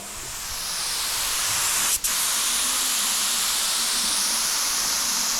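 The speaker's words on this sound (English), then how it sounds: "And boy, is it spraying way better than last time." A paint spray gun lays down a coat of matte black on a Chevrolet Caprice, giving a steady, close, loud hiss with one brief break near the middle.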